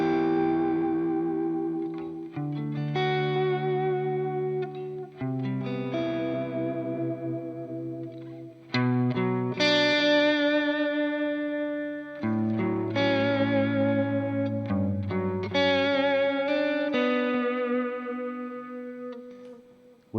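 An electric guitar played through a Valeton GP-5 multi-effects unit with its noise gate switched off: a continuous melodic line of sustained lead notes and chords with reverb and echo trails, close and clear, with no audible hiss between phrases.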